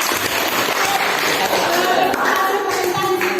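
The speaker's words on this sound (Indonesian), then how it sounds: "sebelumnya tepuk tangan dulu untuk kelompok juga" Classmates in a classroom clapping for a presenting group, steady mixed applause lasting the whole moment, with talk and chatter running beneath it.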